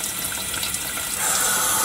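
Tap water runs continuously over soaked fish maw being rinsed in a sink, a loud, steady rushing splash with no voices.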